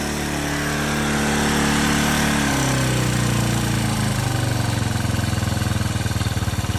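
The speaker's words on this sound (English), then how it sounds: "Never ran that high at an idle at start." A 1981 Yamaha SR185 motorcycle with an Ignitech TCI ignition idles high at startup, its single-cylinder engine droning loud and close. The rpm drops partway through and settles into a steady, rapid, pulsing putter.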